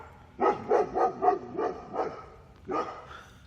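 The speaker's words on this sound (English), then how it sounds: "barky dogs" Dogs bark in a quick run of about six sharp barks, fall briefly quiet, then give one more bark. The barks are fairly close and moderately loud, with no speech.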